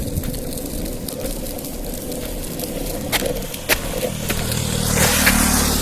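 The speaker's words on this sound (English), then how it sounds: "there is quite a bit of traffic" Road traffic rolls by at night on a street with a streetlight, a steady wash of car noise with a few sharp clicks and scrapes, swelling toward the end as a vehicle draws closer.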